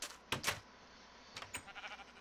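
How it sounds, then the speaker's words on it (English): Sheep in Minecraft bleat in a few short, quiet wavering calls, two close together near the start and more a second later, with no talking. "I found some sheep."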